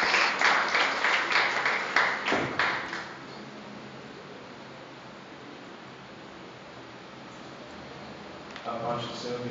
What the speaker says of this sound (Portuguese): Vamos aplaudir o nosso Deus, que ele é digno de toda a honra e toda a glória.